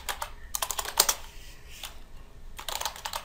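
Java code being typed on a computer keyboard: close, quick clusters of clicking keystrokes in irregular bursts with short pauses between them.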